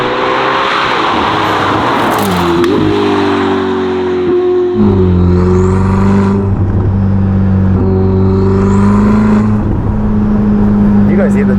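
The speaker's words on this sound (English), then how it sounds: "You guys hear the turbo spools?" Ferrari SF90 with a Novitec exhaust, NF10 wheels and springs roaring hard at close range, its engine note climbing through gears with turbo whistle spooling up, while someone talks excitedly over it.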